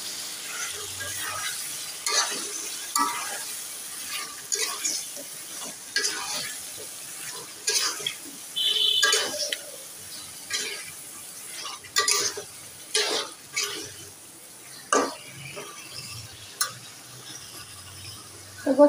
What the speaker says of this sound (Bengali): তো গোশটা আমি সুন্দর করে কষিয়ে কষিয়ে রান্না করবো